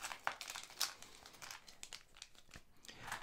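Crinkling plastic wrap being torn open around board game components for Neanderthal (2nd Edition), several sharp crackles and rustles close by, quiet and intermittent.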